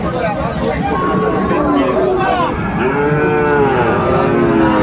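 Several cattle, Sahiwal bulls and calves at a cattle market, moo loudly and repeatedly, close by, over a background of crowd chatter and people talking.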